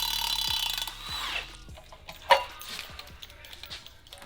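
Hand tools working on a car's flex plate during a manual-transmission Dodge Demon build, with scattered clicking ratchet and metal mechanism sounds and one sharper clank, fairly close, with no speech over it.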